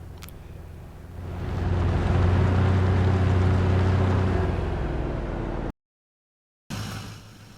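A John Deere tractor drives along in Farming Simulator 22 on the Elk Mountain, Wyoming map, its engine swelling into a loud, steady drone that holds for several seconds, cuts out abruptly, then resumes.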